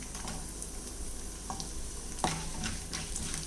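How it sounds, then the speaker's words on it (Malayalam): Whole small onions (shallots) sauté in a pan with lentils for a spicy chutney, a steady close sizzle with a few stirring scrapes and clinks. "ചെറിയ ഉള്ളി നല്ലോണം ഒന്ന് വഴറ്റിയെടുക്കാം"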